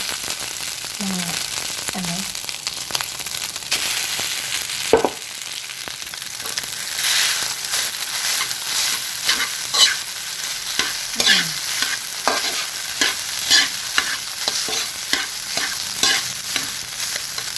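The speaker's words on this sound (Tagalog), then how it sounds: "Medyo tustayin nyo lang yung pagsasangag." Rice stir-fried into sinangag in a pan, with a steady close sizzle, repeated scraping and stirring strokes, and occasional brief voice sounds over the cooking.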